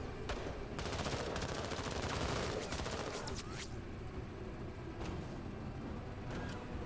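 Video game gunfire in the tactical game Menace comes as dense rapid bursts of automatic fire, then sparser single cracks and short volleys, loud and continuous with no talk over it.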